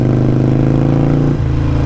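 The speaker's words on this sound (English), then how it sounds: "the engine is revving higher there because it's basically wanting to get out of first gear" A motorcycle engine revving in first gear holds a loud, steady high-pitched drone close by, with a slight dip in pitch near the end.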